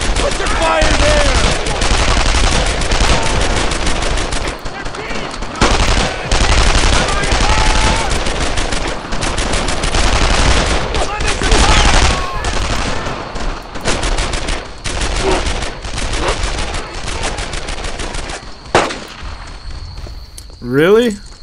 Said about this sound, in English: A lot of bullets are coming my way here!